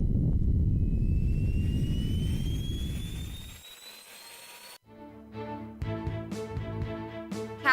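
A spaceship drive engaging in a radio drama, a loud roaring engine rush with a rising whine that cuts off and gives way to a whirring mechanical hum with sharp clicks.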